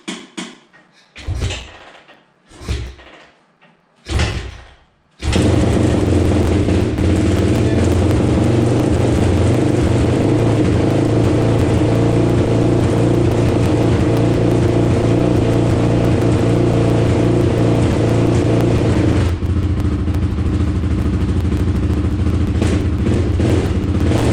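A 2005 Honda TRX450R ATV's single-cylinder engine sputters through a few short cranking bursts, then catches and idles loudly and steadily close by, with a slight drop in tone toward the end.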